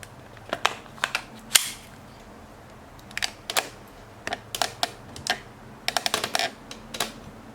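Second-hand Army R17 gas-powered BB pistol test-fired indoors, giving sharp, snappy cracks in quick irregular bursts, some shots spaced apart and others fired rapidly together, close and fairly loud over a low background hum.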